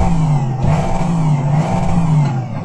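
Sim racing car engine idling through BenQ EX3210R monitor speakers with a bass sound profile, a steady low hum with a slight rev midway, alone and fairly loud.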